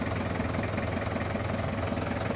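A machine engine runs steadily after being started with an ignition push button, a continuous low rumble and mid-range hum with no pauses, fairly close and alone without talk.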